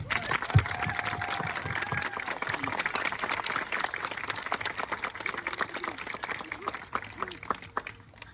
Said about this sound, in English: Can we have another round of applause from Mr. Mike Parisi?